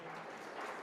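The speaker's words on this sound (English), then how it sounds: "Let's all give them a big round of applause." Audience at a school event claps in a brief, steady burst, a soft, diffuse patter of many hands heard from a distance.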